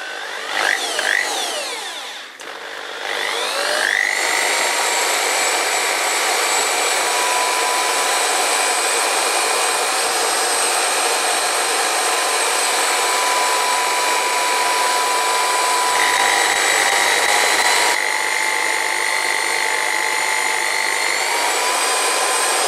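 A metal lathe spindle drills a cross hole into knurled round stock, a loud, steady whine with sharp tonal overtones running almost continuously after a brief start-up, with slight pitch shifts partway through.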